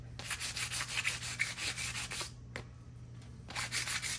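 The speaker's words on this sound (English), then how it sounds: "just scuff the side of the belt just to roughen it up" A Polaris RZR drive belt scuffed on its side to roughen the glaze, a rapid, rhythmic rasping rub of many close strokes, a brief pause, then more rubbing, with no talking.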